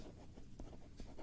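Chalk or pen strokes on a board during a geometry lesson, a few short scratchy marks in quick succession, quiet and close over a faint hum.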